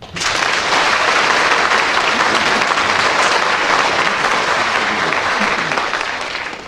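A studio audience at a British radio comedy panel game breaks into loud, sustained applause that holds steady for several seconds and then begins to taper off at the end.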